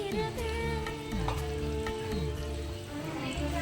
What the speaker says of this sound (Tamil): போட்டு நல்லா வதக்கிக்கலாம்